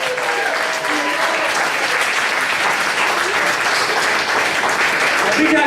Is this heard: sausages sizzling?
no